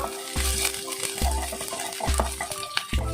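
Ginger and a few garlic cloves, finely chopped, sauté in a pan: a steady sizzle broken by repeated scraping strokes of a spoon against the metal, close and clear, with no talking.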